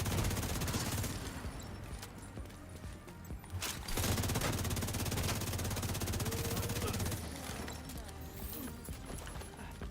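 Rapid weapon fire in The Division 2 video game, dense bursts of shots crackling in runs with a sharp crack near the four-second mark, mechanical clatter between, moderately quiet overall with faint voice underneath.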